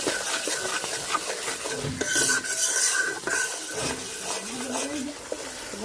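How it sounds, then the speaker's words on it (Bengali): Spice paste for a katla fish curry is stirred and fried in a pan with a continuous scraping, rasping sound and a soft sizzle underneath. A few clinks of a utensil come through close up and fairly loud. "মশলাটা ভালোভাবে কষাই নিচ্ছি"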